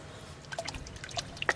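A paintbrush loaded with red watercolour is swished and tapped in a water jar, giving soft scattered drips and small splashes close by in a quiet room.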